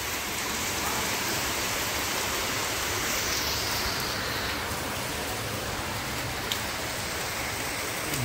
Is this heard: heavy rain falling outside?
yes